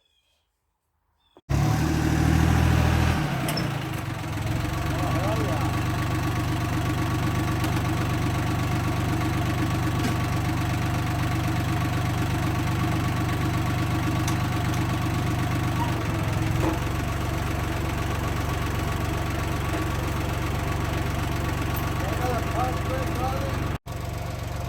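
A Yanmar YM186D tractor engine starting up and running on a test drive after brake work: a steady, close diesel chug with a knocking, mid-pitched drone that continues without a break.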